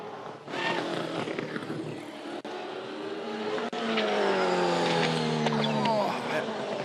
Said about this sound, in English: I've never seen a car go off the road as fast as that at that spot.